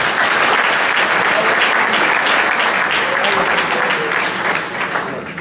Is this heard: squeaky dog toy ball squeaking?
no